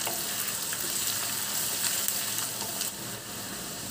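Fish head frying with garlic paste in a pan for a Bengali chorchori, a steady close sizzle filling the whole stretch with faint scattered crackles, easing slightly near the end; no talking.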